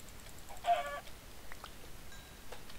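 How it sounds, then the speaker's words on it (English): A chicken in the Minecraft video game gives one short, clear cluck early on, followed by faint scattered game noises and no speech. "Chicken."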